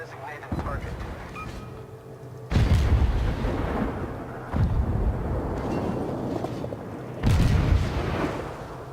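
Naval gunfire from a Gnevy destroyer in the video game World of Warships, with repeated heavy booming salvos every couple of seconds over a rumbling engine bed.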